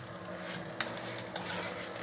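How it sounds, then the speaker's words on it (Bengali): Pulao being stirred in a kadai, with a steady, close sizzling wash broken by a few light scraping clicks as the rice is turned. "পোলাওটি আমি এরপরে নাড়ছি।"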